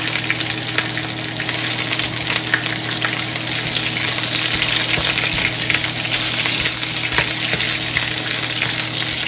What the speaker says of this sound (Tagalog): Pwede na natin ilagay ang ating sibuyas.